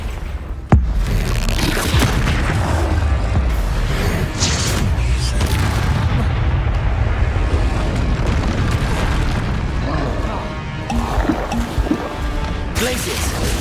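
Confringo spell blasts in Hogwarts Legacy, a sharp explosive crack early on followed by rumbling booms and crashing effects layered under ongoing spoken spell-casting and combat noise.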